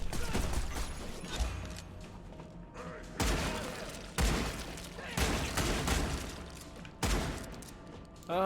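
Gunfire from the video game Redeemer: several loud, sharp shot bursts at intervals over dense game noise and effects, with a faint voice nearby.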